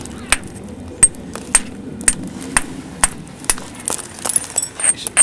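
Flint knapping with a hard hammer: sharp, ringing strikes of stone on flint land at a steady rhythm about every half second, growing quicker and clustered toward the end, close and clear against a quiet room.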